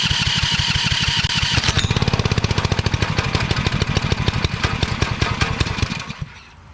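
A small engine on a build stand runs hard under throttle with a fast, loud, even exhaust pulse, then slows and dies away near the end.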